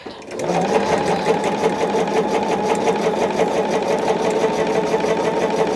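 A sewing machine stitches a quilt at a fast, even pace, a loud continuous mechanical whir that starts after a brief pause and runs unbroken for several seconds with no voices.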